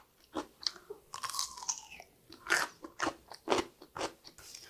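Close, crisp crunches and chews of radish from dongchimi, Korean water kimchi, come in an irregular run of bites with brief pauses and no voice over them.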